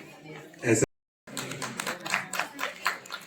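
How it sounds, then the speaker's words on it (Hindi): An audience at a National Consumer Day event held by a consumers association in Panchkula claps in dense bursts. A short silent gap falls early, then the clapping carries on through to the end. "तालियां हो जाए मुंशी राम अरोड़ा साहब के लिए।"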